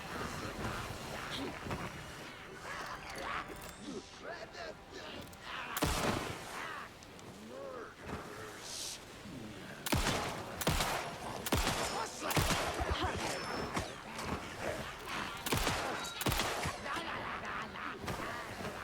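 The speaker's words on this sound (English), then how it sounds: "There's too many bullets, man." Repeated gunfire in the survival horror game Alan Wake II, sharp cracks landing in irregular bursts and volleys, loud and close, with a voice occasionally talking between shots.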